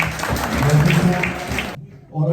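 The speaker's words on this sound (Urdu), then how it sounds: "اگین چوائس صاحب کے لیے بہت ساری تالیاں" Audience applause at a charity fundraiser in Vienna for a cancer hospital in Karachi: a dense, steady clapping wash that stops abruptly near the end, followed by a brief quiet gap and some voice.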